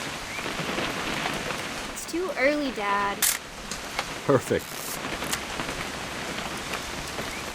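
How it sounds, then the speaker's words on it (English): Steady rain patters on surfaces in the video game What Remains of Edith Finch, a constant soft hiss running beneath a short exchange of voices and a couple of sharp clicks. "It's gonna rain the whole weekend, isn't it?"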